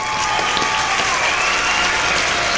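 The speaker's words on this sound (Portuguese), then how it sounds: "peço pra plateia salva de palmas pra essa equipe maravilhosa nossa." Audience at a podcast recording breaking into applause, a dense, steady burst of clapping that fills the whole moment without pause.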